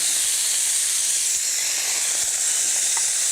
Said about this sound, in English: Shrimp go in. And we're going to sear these about halfway